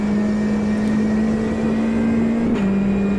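Race cars in the Automobilista 2 racing game with a G40 GT5 setup, a steady loud engine drone holding one pitch, dipping briefly as a gear shifts near the end.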